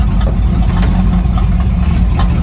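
A 1967 Pontiac Firebird with a 400 engine, running again after 25 years, idles with a loud, steady, deep rumble close by and no voices.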